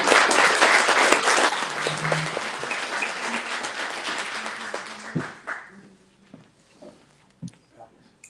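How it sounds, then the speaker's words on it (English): An audience at a Chamber of Commerce candidate forum bursts into loud, brisk applause for a county commission candidate. The clapping fades out over about five seconds, then a few scattered claps and thumps sound under a speaker's returning voice. "Let's give them a round of applause."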